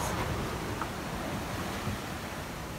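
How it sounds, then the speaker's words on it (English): Ocean waves breaking on a shore, a steady faint wash of surf noise with gentle swells and some wind buffeting on the microphone. "Waves crashing on that."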